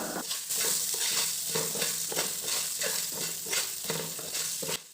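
Gooseberries and coconut pieces sauté in a hot kadai for gooseberry thogayal, a loud, steady sizzle with the rhythmic scrape of stirring throughout and no voices.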